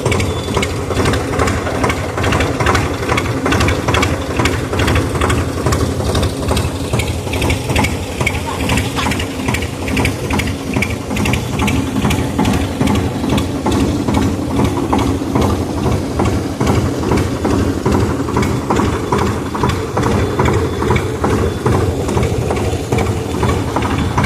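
A tractor engine running on a farm field, a continuous rough mechanical rumble with rapid rattling pulses, steady and loud close by throughout.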